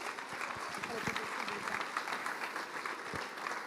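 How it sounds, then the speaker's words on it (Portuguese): Church congregation applauding the Lord, a dense patter of clapping hands at moderate distance with some voices mixed in. "uma salva de palmas ao Senhor"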